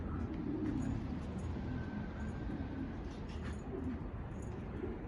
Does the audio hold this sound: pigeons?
yes